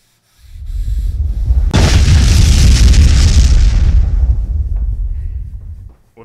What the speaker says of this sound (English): After witnessing Professor Millsap's spontaneous combustion